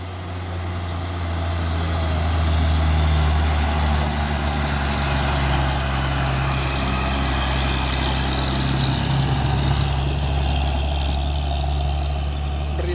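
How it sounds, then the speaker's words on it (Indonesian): Deep steady engine drone from an orange 6x2 box truck, a loud continuous low rumble lasting throughout with some passing traffic noise, no voices. "Ini ada lagi satu nih truk box oren pemain 6x2 ini"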